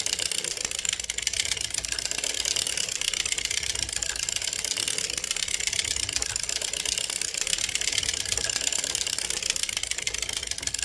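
A hand-cranked sock knitting machine works a 3x1 ribbed sock in yarn, giving a steady, close, continuous mechanical clatter of needles at an even pace throughout, with no talking.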